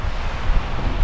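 Ocean surf on a beach at Nusa Lembongan, Indonesia, heard as a steady low rushing wash mixed with wind buffeting the microphone, with no talk.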